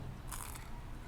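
A single crisp crunch of teeth biting into a flaky taro pastry manju, a quick bright crackle lasting a fraction of a second against a steady background hiss, close to the microphone.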